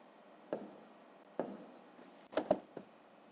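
A pen writes the number 36 on paper during a fifth-grade maths exercise, giving a few faint, short scratchy strokes in a quiet room.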